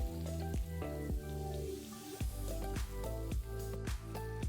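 Nigerian akara bean cakes frying in hot oil, a soft crackling sizzle broken by repeated wet squishy bursts and splatters, close and fairly quiet, with no talking.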